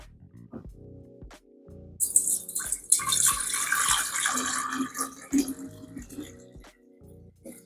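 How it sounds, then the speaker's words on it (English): Homemade cashew milk poured from a juicer into a vessel, heard as a close splashing, gurgling stream lasting a few seconds between quieter clinks and taps. "before I pour it into my vessel over here"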